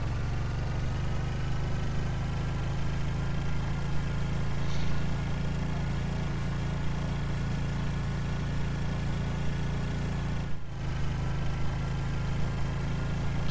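Steady, unbroken drone of a boat motor in the survival game Stranded Deep, running loud and even for the whole stretch with a brief dip near the end, with no voices over it.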